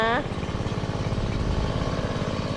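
A STIHL MS 180 chainsaw engine putters at a steady idle, close by, after a brief voice at the start.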